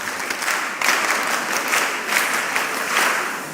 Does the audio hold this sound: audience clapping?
yes